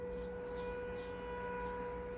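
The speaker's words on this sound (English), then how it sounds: "The siren is going." A civil defense siren wails outside while someone cooks in a kitchen: a steady, faint, distant tone holding under the room's hum.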